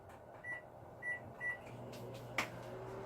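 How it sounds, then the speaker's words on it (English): Microwave oven running while heating fudge in a glass jar, a steady low hum with three short beeping tones and a brief clunk near the end. "we're going to microwave it for about 10 seconds in a glass jar"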